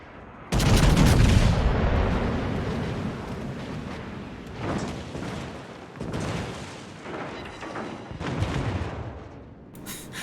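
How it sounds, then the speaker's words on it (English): Naval gun salvo from a battleship in World of Warships, firing at a Harugumo destroyer: a loud booming blast that rolls into long rumbling echoes, with further heavy thuds and crashes following over several seconds. "That was a good salvo on the Haru."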